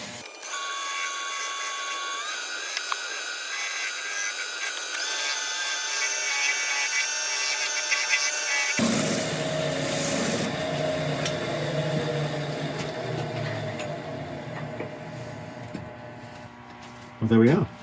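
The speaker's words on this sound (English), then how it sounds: "we'll give it its final buffing" A segmented wooden bowl of sycamore, walnut and ebony gets its final buffing on the lathe, a steady high whine and hum that starts quietly, then swells into a louder rough buffing rush for the second half.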